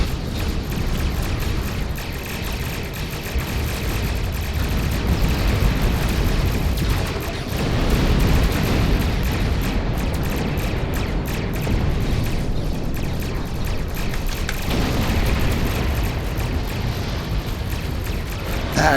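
Continuous roar of spaceship weapons fire and explosions in Star Trek Online, loud, dense booming and rumbling blasts layered throughout with no break.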